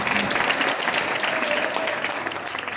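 Steady applause from an audience at a junior college farewell day, a dense continuous patter of clapping filling the whole stretch at even loudness.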